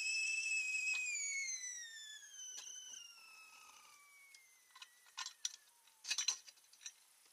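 A cooking pot on the stove whistles, a loud, steady high tone that slowly falls in pitch and fades, followed by scattered faint clicks and taps near the end.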